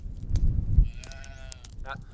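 A sheep bleats nearby, a drawn-out wavering call followed by a shorter one, over low rumbling background noise.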